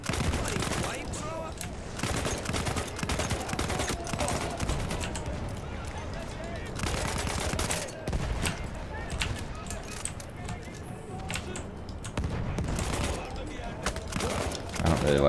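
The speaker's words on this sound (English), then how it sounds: "Three-round burst." Three-round burst rifle fire in the Battlefield 1 campaign, repeated bursts of close, loud gunshots crackling over a dense battle din, with other weapons firing and a voice heard in the mix.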